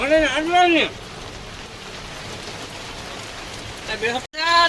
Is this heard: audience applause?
no